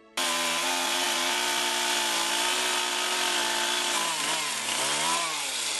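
Chainsaw cutting through trees felled by the Vaia storm, a loud, steady engine whine that holds throughout, with the pitch dipping briefly near the end as the blade bites into the wood.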